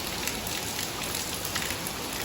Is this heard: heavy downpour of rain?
yes